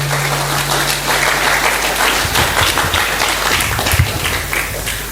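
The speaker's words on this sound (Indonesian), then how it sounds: "Tepuk tangan dong." Dense, continuous applause from a theater audience in Pekalongan fills the space at a steady, loud level with no gaps, and a faint hum runs beneath it at the start.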